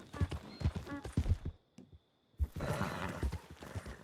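Horse hooves clip-clop in Red Dead Redemption II, with a voice speaking over the steady rhythmic steps and a brief quiet pause partway through.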